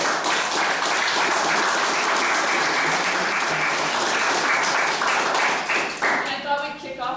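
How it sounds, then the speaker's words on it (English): A room full of people applauds at a 2019 party nomination meeting in North Okanagan-Shuswap, a loud, sustained wash of clapping that thins out near the end as voices come through. "So, round of applause."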